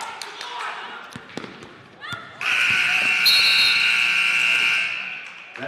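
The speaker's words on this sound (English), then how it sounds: "Buzzer sounds. That's the end of the first quarter" Scattered thumps and crowd noise at a women's college basketball game in Mansfield, then a loud, long electronic buzzer blares steadily for several seconds ending the first quarter.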